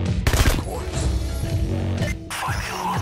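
Gunfire from the heist game Payday The Heist, a diamond heist on Overkill difficulty: loud, dense bursts of shots and crashes packed through the few seconds, with voices talking underneath.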